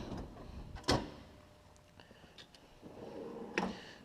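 Snap-on tool box drawer sliding open in a garage workshop, a sharp metallic clunk near the start and another near the end, with faint rattles and movement noise between.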